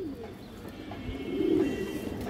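Soft, low pigeon cooing swells briefly midway through, over a faint background hum.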